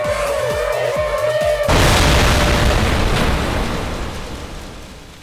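Cartoonish explosion in a comedic gnome apocalypse bursts in loud and close right after a short stretch of music, then its roaring rumble slowly fades over several seconds.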